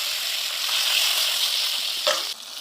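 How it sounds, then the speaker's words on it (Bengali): Japanese puti fish frying in hot oil, a loud steady sizzle that holds throughout with a brief sharper crackle near the end. "আবার দুটো মাছ ভেজে নেব।"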